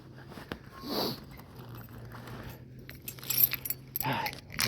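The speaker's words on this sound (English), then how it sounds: "Sticking all the keys thing in there" Keys jangle and clink in brief, faint bursts as they are tucked away before a winter walk, with soft rustling and handling noise around them.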